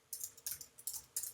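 Keys on a computer keyboard are struck in four quick, soft bursts of clicking with short pauses between them, heard close and quiet with no talk.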